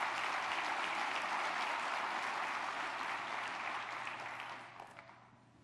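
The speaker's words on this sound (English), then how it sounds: "Could we have a round of applause for Chuck and the gang at Independence Bank?" Convention audience applause for a bank partner, a thick, even roar of clapping from a large room that holds strong and then tapers off near the end.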